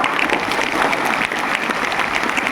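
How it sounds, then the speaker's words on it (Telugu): An audience claps loudly and continuously, a dense, steady patter of many hands cheering for the Telugu language at a Telugu mother-tongue event, with no talk over it. "గట్టిగా చప్పట్లు కొడదాం మన తెలుగు భాష కోసం"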